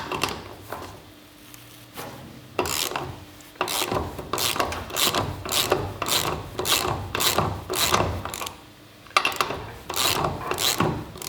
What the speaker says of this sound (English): we now need to loosen off the wheel nut. For this job you'll require a 24mm socket